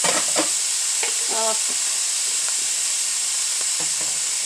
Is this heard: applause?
no